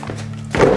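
A door closing with a single solid wooden thunk after a brief low hum, loud and near, with no talking.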